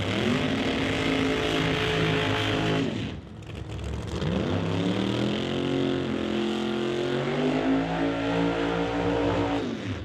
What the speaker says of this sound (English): getting ready to roll into the burnout box in his GTO